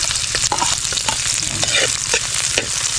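Ginger and garlic sautéing in a hot pan, a loud steady sizzle with frequent scraping stirs of a utensil throughout, close and with no talking.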